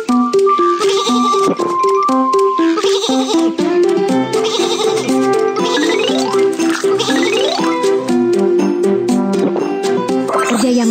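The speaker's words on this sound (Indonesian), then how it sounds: "Domba ada di jalur." A toy baby train set plays a melodic jingle with repeated bleating sheep on the track, loud and bright, the bleats rising and falling over a bouncy electronic tune.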